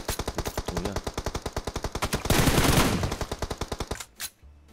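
Rapid automatic gunfire from a video game with a T-Rex mode, a steady burst of evenly spaced shots, louder and denser mid-way, then stopping with a few scattered sounds at the end.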